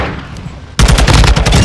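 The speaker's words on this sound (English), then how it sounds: "shotgun now." Gunfire in XDefiant: after a quiet moment, a loud run of rapid, closely spaced shots hits abruptly and keeps going for under a second, up close and alone.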